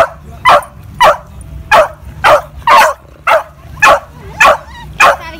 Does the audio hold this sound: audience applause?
no